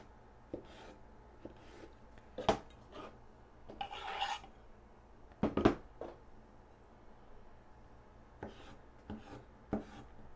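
A knife cuts through hot roasted summer squash on a board, making faint, scattered rasping strokes and soft chops at an uneven pace against a quiet background, with no voices.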